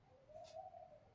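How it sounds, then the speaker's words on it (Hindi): A single soft bird call, a low drawn-out coo rising and falling over about a second, heard faintly against quiet background noise. "ये देखिए ये चिड़िया की आवाज़ किसकी आवाज़ है,"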